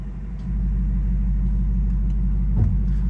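A 2021 Ford Mustang Mach 1 engine in quiet mode idles and pulls away with a low, steady, subdued rumble, close and even, with no talking.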